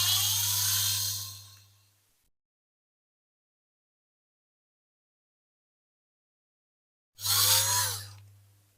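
A small high-pitched drill with a 2mm bit whirs in two short bursts, drilling holes in a diecast Ford RS500 Cosworth model car, close up, separated by several seconds of silence.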